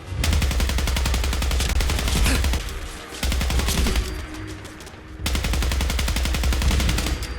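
High level turrets in the video game Fallout 4 fire rapid automatic bursts, dense rattling machine-gun fire in three long volleys. Each volley is separated by a short lull, loud and close with no talk.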